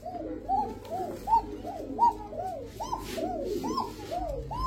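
Racing pigeons, including a microchip-tagged male, coo repeatedly in a steady run of rising-and-falling bubbling calls, close and clear, with no talking over them.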